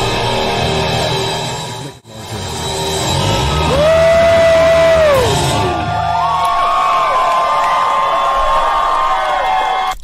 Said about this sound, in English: It definitely sounds like a huge crowd.